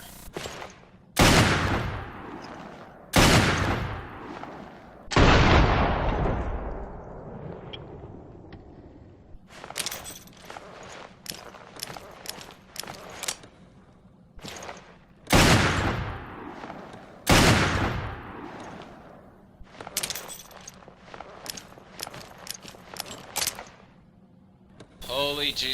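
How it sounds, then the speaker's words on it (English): The Pale Rider hand cannon firing in Resident Evil Revelations: heavy, booming shots spaced a few seconds apart, each with a long rolling decay, and some clustered, quieter clatter between blasts. "this is the hand cannon of Resident Evil Revelations"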